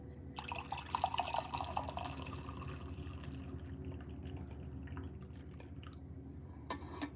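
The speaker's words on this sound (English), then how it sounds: "I'm having the continental coffee, and I'm going to pour myself some more." Coffee poured from a pot into a cup, a brief liquid splash and trickle near the start, then fading into a soft, steady background hum.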